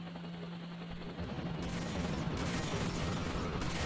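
Gunfire at a helicopter in the video game Rio Rex, where a dinosaur destroys a city: a dense, rattling volley of shots over a constant noisy, mechanical din, loud and continuous throughout.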